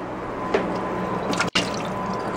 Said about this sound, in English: Now I'm going to try water from the fridge filter.